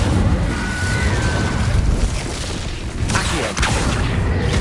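Incendio fire spell cast in Hogwarts Legacy: a dense, roaring rush of flame holds steady and loud throughout, with a couple of sharp crackling bursts near the end.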